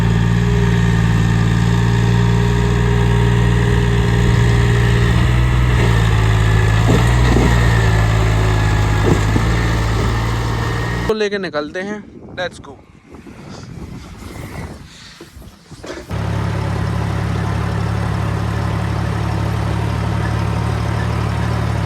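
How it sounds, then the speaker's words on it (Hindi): A tractor engine drones loud and steady as it climbs a slope, its rumble briefly churned by buffeting noise before the engine settles back into a constant hum. Someone speaks briefly. "तो आगे थोड़ा सा स्लोप है, तो ट्रैक्टर को चढ़ाते हैं"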